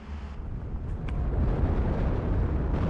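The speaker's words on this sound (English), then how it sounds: "There's the Katusha barrage." A Katyusha rocket barrage in Steel Division 2 rolls in as a continuous, rumbling series of distant explosions that builds and stays loud to the end.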